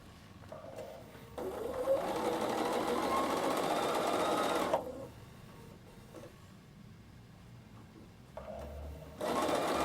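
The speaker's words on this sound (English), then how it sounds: "it's going to sew inside that last row of piping of cord" Bernina sewing machine stitching along a row of piping cord, a fast steady whir that runs for about three seconds, pauses, then starts again in shorter bursts.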